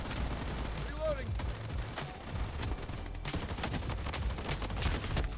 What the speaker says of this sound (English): Who upset the bots? Why are they shooting at me?